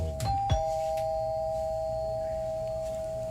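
A two-tone electronic doorbell chime rings once, the second tone holding as a steady hum that lingers and slowly fades in a quiet room.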